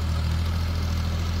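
A tractor engine idles steadily at a construction material site where gravel and stone are loaded, giving a continuous low, throbbing hum that stays close and even throughout without any talk.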